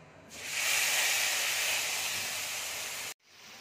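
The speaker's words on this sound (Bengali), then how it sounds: "পটল ভাজার তেলে আমি মশলাটা দিয়ে দিচ্ছি।" Loud, sudden hiss as a wet spice paste hits hot oil left from frying pointed gourd, sizzling strongly and steadily for about three seconds before cutting off abruptly.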